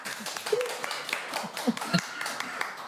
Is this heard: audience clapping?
yes